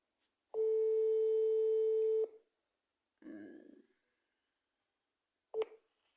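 A telephone call tone on the line sounds as one long steady beep of about two seconds, followed by a short burst of muffled noise and then a brief second tone that cuts off.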